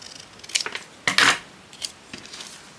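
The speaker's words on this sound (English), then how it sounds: "So let's just cut that off." Scissors snip through a fabric scrap in a few quick, close cuts, short crisp clicks and a louder slicing snip, with quiet pauses between them.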